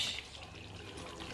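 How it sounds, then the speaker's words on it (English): Prepared spinach poured into a simmering sauce, giving a steady, close, wet pouring and trickling sound with no speech. "I'm pouring my spinach"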